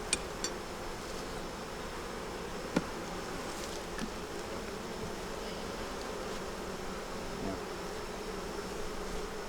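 Honey bees swarm around an open hive holding brood, honey and nectar, giving a continuous dense buzzing drone close by, with a few faint clicks and knocks.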